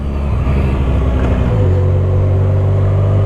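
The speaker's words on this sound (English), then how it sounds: "Lovely little night ride for the old VFR1200." A 2010 Honda VFR1200F DCT motorcycle cruises at night, its engine a steady close droning rumble that shifts pitch and settles into an even hum, with constant wind noise throughout.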